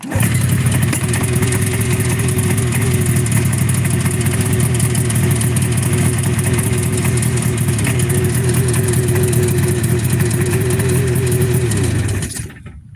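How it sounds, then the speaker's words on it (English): A 1978 Arctic Cat Jag snowmobile engine runs loud and close after being started on the choke, a rough, rapid two-stroke putter held steady before cutting off near the end. "It fired up with the choke. The choke works just fine."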